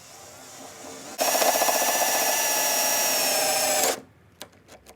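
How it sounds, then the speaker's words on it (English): A power drill whirs loudly for nearly three seconds, boring a hole through the body of a VW Golf Mk1, then stops, followed by a few faint clicks and taps. "so let's do some drilling."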